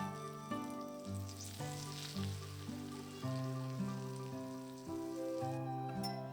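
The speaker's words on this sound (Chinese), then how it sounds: "泼上滚烫的油，所以最好用耐高温的碗" Scalding oil poured over flour, salt and five-spice powder in a heatproof bowl crackles and sizzles steadily, a moderately quiet bubbling hiss with tonal background sounds and no talk.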